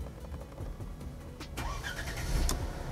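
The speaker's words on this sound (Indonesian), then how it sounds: "Kita starter sekarang." An old Mercedes-Benz car engine cranks and starts, a steady low rumble that swells as it catches and settles toward idle, heard up close with no talking.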